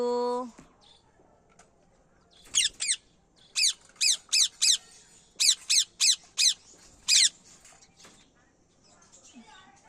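Parrots give a series of about a dozen harsh, close squawks in short bursts, often in pairs, separated by brief quiet gaps. A brief voice-like sound comes right at the start.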